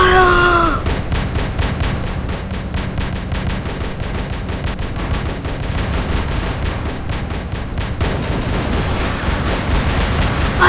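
Gunfire from robots in the Water Robots video game, a steady loud clatter of repeated shots and blasts that fills the whole stretch with no clear pauses.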